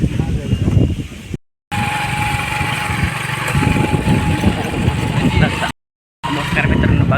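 A vehicle engine runs steadily at close range, a continuous rough idle with a low throbbing rumble and a faint steady whine, broken by two short gaps, outdoors near a river.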